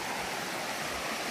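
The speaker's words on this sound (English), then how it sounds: "And another stream crossing." A stream flowing at a crossing on the Mountains to Sea Trail, a steady, full rush of water heard alone and evenly throughout.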